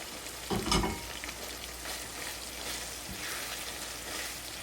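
Pre-fried potatoes drop into chicken mince frying in a pan, with a brief louder sizzle and stir near the start, then a steady close-range frying crackle without talk.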